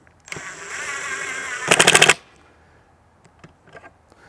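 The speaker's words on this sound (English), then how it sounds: "I like to use an impact because you can hear it. You can hear the impact click." An impact driver drives a pocket-hole screw into MDF with a steady whir, then hammers in a rapid burst of sharp impacts before stopping, followed by faint clicks.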